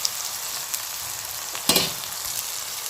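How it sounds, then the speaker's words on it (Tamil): Tomatoes and brinjal sauté in a hot pan, giving a steady close sizzle with a brief louder burst of stirring partway through and no voices. "தக்காளியும் சேர்த்து நல்லா நம்ம வதக்கிடணும் தக்காளி நல்லா குழைவாக வதங்கணும்"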